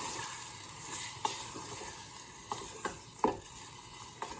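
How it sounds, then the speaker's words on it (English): Ingredients frying in a pan and being tossed, a quiet steady sizzle punctuated by several sharp clinks and scrapes at irregular intervals, close by with no one speaking. "fry this for like few seconds"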